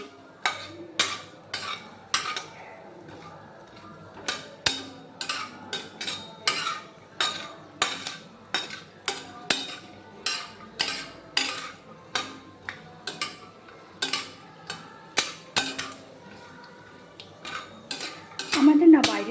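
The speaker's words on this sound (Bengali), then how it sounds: "প্রথমে কড়াতে আমি বাদামগুলো দিয়ে দিয়েছি, দিয়ে বাদামগুলো ভালো করে ভেজে নিচ্ছি।" Peanuts being fried and stirred in a wok at home produce repeated metallic scrapes and clinks of a utensil against the pan, a steady rhythmic stirring heard close and fairly soft.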